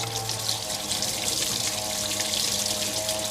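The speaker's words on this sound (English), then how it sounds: "I grab my hose again and I just rinse this out thoroughly" Water rushes steadily from a hose rinsing out a boat's live well, a continuous close hiss and splash with no pauses.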